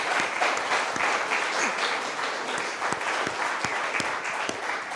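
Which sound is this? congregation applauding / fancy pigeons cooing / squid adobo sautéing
congregation applauding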